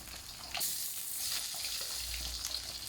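Pork for Thai-style crispy pork frying in a pan, a loud, steady, dense sizzle and crackle that runs unbroken throughout.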